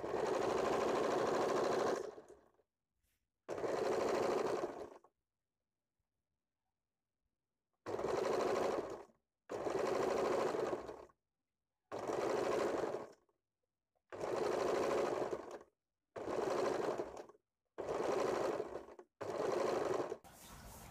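Sewing machine stitching blouse fabric with lining, running in repeated bursts of a few seconds separated by pauses; the rapid mechanical whir is close, steady and alone.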